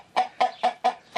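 Chickens on a small home farm in Ukraine give five evenly spaced clucks, close and clear, in a quick steady rhythm with no talking.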